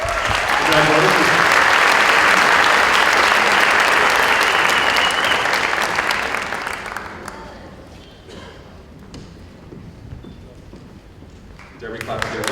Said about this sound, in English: Dare we clap together?